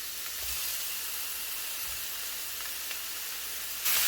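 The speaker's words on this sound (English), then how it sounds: "I'm just going to saute just for a bit." Tomatoes sizzle as they are sautéed in a pan for a vegetable jalfrezi, a continuous broad hiss that holds steady and swells louder right at the end.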